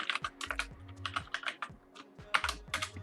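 Quick, close clicks come from a computer keyboard as code is typed into an Elixir programming session. The keystrokes fall in short uneven bursts with a few thumps from heavier keys.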